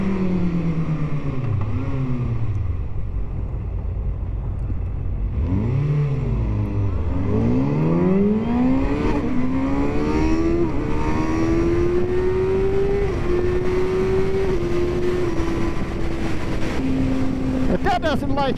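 A motorcycle engine revs and accelerates hard, its pitch climbing in repeated rising sweeps before settling into a loud, sustained high whine over about eighteen seconds, with rushing wind noise throughout.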